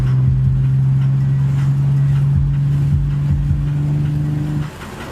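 A four-cylinder car engine holds a steady, loud, droning hum with a rough low rumble for several seconds, then drops off abruptly near the end.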